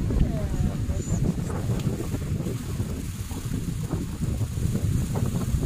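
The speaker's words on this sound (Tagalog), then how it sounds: "Mahangin pero okay lang." Steady wind buffets the microphone outdoors at Al Wakrah Family Beach in Doha, Qatar, a constant rumbling roar with faint sea-like wash beneath it.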